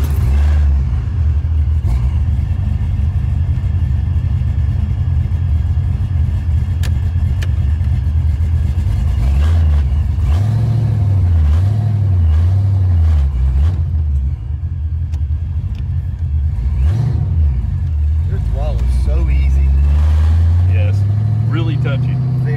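A TKX car with a bad exhaust leak drives and revs, a loud rough engine rumble that rises and falls with throttle, with people talking inside over it.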